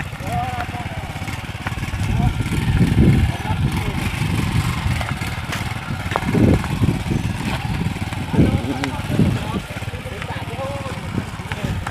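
Motorcycle engine running on a street, its rough mid-pitched idle punctuated by several loud revving bursts, with excited voices talking and shouting over it close by.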